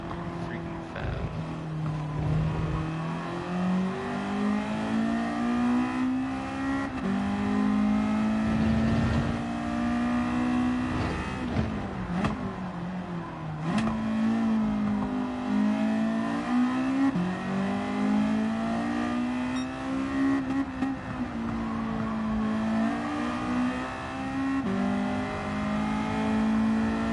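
A car engine revs hard and climbs through the gears while driving fast in a Wakai Attack time-attack session, loud and continuous throughout, with pitch rising and dropping on each shift.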